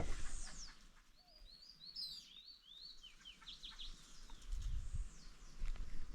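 Several birds chirp and call in short, scattered bursts at a quiet outdoor birdwatching spot reached by bike, with soft natural background noise and a low rumble near the end.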